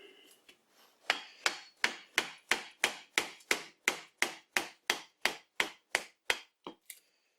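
A homemade chisel is struck again and again into a big wooden log, giving about fifteen sharp, evenly spaced woody knocks, each with a brief ringing tail, close and clear with no voices.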